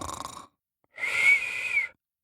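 A voice imitating a fox snoring: a short nasal exhale, a pause, then a longer wheezy, whistling inhale, close and fairly quiet, with no other sound around it.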